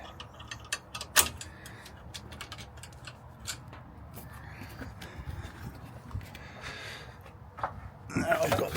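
A metal hitch pin is slid into place while an RV is hooked up, giving a sharp metallic click near the start, then a few lighter taps over a steady outdoor background.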